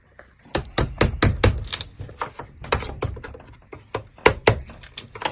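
Hammer gently prying cedar trim boards off a house exterior, heard as a run of sharp, close knocks and cracks in irregular bursts with no talk.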